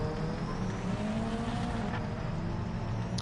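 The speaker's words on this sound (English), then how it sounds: "Aston Martin, I think it's the DBR9. That car sounds excellent, and it actually sounds pretty close to that car on this game." Aston Martin DBR9 race car engine in the Project Motor Racing video game, a loud steady roar with a rising pitch as it accelerates, close and continuous with no talk.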